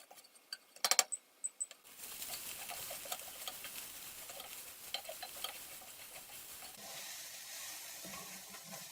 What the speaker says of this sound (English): Make sure to stir continuously so that you don't burn the cabbage.